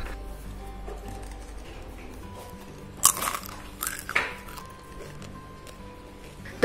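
Spicy, crispy fried macaroni snack crunches a few times, with sharp bites near the middle and end standing out against a quiet, humming background.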